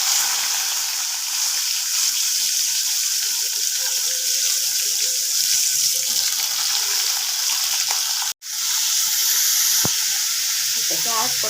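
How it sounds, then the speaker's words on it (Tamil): Mustard seeds, curry leaves and carrots frying in hot oil for a carrot stir-fry, a steady close hiss and crackle of sizzling that cuts out for a moment near the end before resuming. "சூடானதுக்கப்புறம் இதில் கடுகு போட்டு தாளிச்சுக்கலாம். கடுகு நல்லா பொரியட்டும்."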